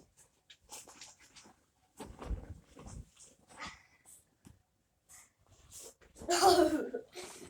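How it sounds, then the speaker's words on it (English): A pet dog snorts and sneezes in sharp bursts and whimpers, heard close by in a room in between short gaps of quiet. "My dog is just being very silly right now."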